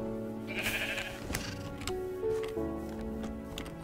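Sheep bleating in an arcade video game, heard as wavering, nasal synthetic bleats mixed with game music and ticking effects, moderately loud and continuous.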